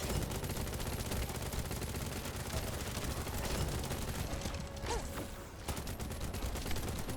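Rapid bursts of automatic gunfire from a gun in the video game The First Descendant rattle on continuously, dense and sharp, with a brief thinner stretch before resuming.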